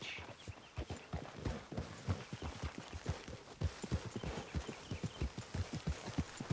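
Steady rhythmic clip-clop of horse hooves walking at an even pace in Red Dead Redemption II, close and clear, with no voices.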